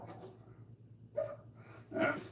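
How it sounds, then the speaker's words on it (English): Dogs bark in two short bursts, a sharper one near the middle and a louder one toward the end, over a low steady hum. "listen to all the dogs barking"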